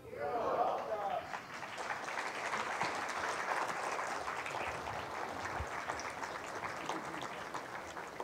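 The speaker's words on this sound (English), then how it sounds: "Another round of applause for Jeff." Audience applause at a Penn State faculty event, steady broadband clapping from a crowd that holds through the whole stretch, with an opening burst at the start and some talk mixed underneath.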